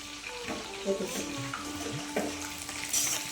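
Chicken leg pieces frying in a pan with garam masala give a soft, steady sizzle with light stirring scrapes, while a voice murmurs faintly at times.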